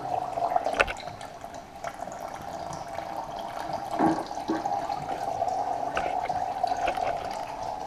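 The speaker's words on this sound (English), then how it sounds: "The oil's nearly drained now." Gearbox oil draining from a Honda Civic EG turbo during gearbox removal, a steady quiet trickle with occasional drips and splashes running continuously throughout.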